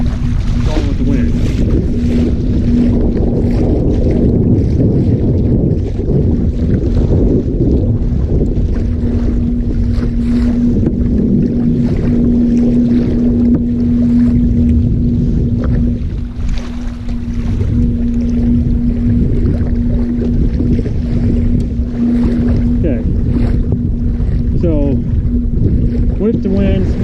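Wind buffeting a microphone on a Hobie PA 14 kayak driven downwind by a Bixpy Jet motor on open water, a loud continuous rumble with a steady motor hum running underneath for the whole stretch.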